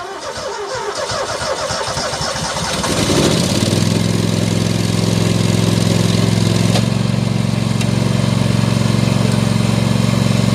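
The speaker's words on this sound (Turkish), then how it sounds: "motoru yatırdığımız için bayağı bir zor çalışabilir normaldir" A lawn mower tractor engine, freshly fitted with a new drive belt and pulley after being tipped on its side, cranks rapidly for about three seconds, then catches and settles into a loud, steady close-up idle.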